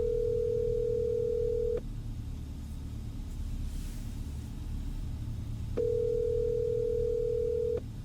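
A telephone dial tone sounds as a call is being placed: a steady, loud, even hum that runs for about two seconds, breaks off, then returns for another two seconds over a low background rumble.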